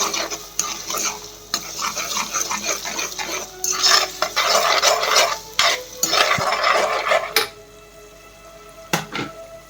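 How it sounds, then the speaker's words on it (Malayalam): Crushed garlic sautés in oil for a Kerala prawn pickle, with bursts of loud, close spoon-against-pan stirring over a crackling sizzle, then a quieter stretch with a couple of sharp knocks; no talking. "അത് കഴിഞ്ഞ് വെളുത്തുള്ളി ചതച്ചത്, ഇത്രയും നന്നായിട്ട് വഴണ്ട് വരണം."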